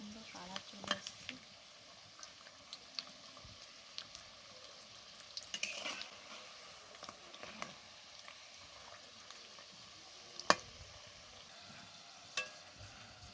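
Potato-filled samosas frying in hot oil give a soft, low sizzle with scattered sharp pops and crackles, quiet and close, with no talking.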